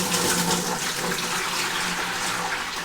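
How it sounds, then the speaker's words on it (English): Ginger lemon mead mixture pours steadily through a strainer into a bucket, a continuous close splashing rush of liquid that stays even throughout with no talk. "now we're just going to pour the mixture over the bucket"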